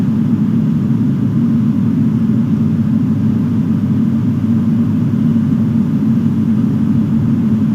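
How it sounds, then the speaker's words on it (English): A Boeing 737 airliner in a flight simulator game produces a steady, loud, low engine rumble that drones on evenly throughout with no voices. "Waiting on this Boeing 737 to clear."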